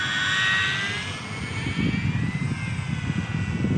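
Eachine Mini P-47 RC warbird plane with a brushed motor flying, a thin high-pitched motor whine shifting in pitch as it passes, against gusty outdoor wind rumble, with no talking.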